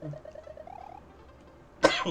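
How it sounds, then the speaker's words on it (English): A man coughs once, a sharp harsh burst near the end that follows a faint high melodic tune playing quietly in the background. "I apologize for the coughing"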